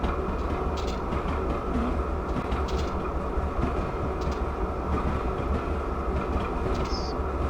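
A Norfolk Southern freight train in a Train Simulator game rumbles steadily and loud throughout, a continuous low drone with faint clicking and hiss on top.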